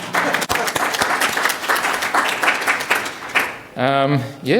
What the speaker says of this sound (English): Cheers and claps and...